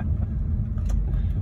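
A minivan's engine hums as a low, steady rumble from inside the cabin while driving, with a brief faint rise near the end.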